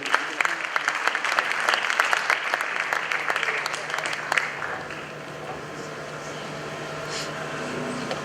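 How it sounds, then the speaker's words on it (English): Enthusiastic applause from a crowd at a media awards ceremony, steady clapping for about four seconds before fading into quieter room noise. "Shall we, with a big round of applause, welcome the Inspector General of Police, Mr. Christian Tete Yohuno."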